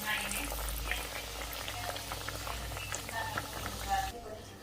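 A kachori fries in hot oil, giving a steady bubbling, frothy sizzle with small pops and crackles, fairly soft and continuous until it cuts off near the end.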